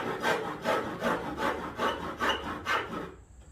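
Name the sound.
cutting fiberglass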